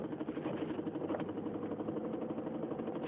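A four-wheel drive vehicle pushes through deep snow during a Chicago blizzard, its engine droning steadily and muffled with a constant rumble of tires and wind, no voices present.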